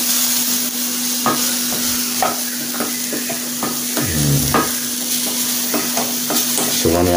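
A vegetable mixture fries in a pan for a homemade vegetable sandwich filling while a utensil stirs and scrapes it, giving repeated scraping strokes over a steady sizzle, close and fairly loud.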